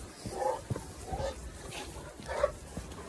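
A dog out on a walk gives a few short barks at moderate loudness, spaced about a second apart over a steady outdoor background.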